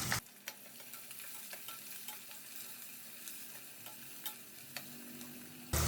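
Chopped onion pieces fry in a pan with a soft, steady sizzle, punctuated by scraping stirs every second or so, close by and fairly quiet.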